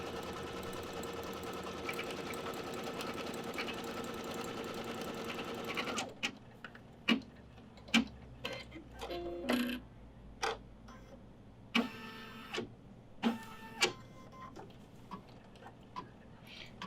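A sewing machine stitching a basting line across the top of a fabric cinch sack runs steadily and close for about six seconds, then stops, leaving a scattering of sharp clicks and handling knocks.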